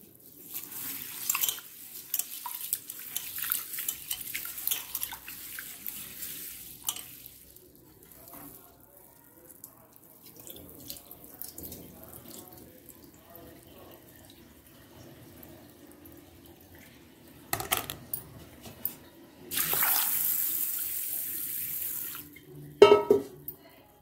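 Tap water runs and splashes over split black gram (urad dal) being washed in a kitchen sink, with intermittent rinsing bursts, sloshing, and a louder gush of running water near the end.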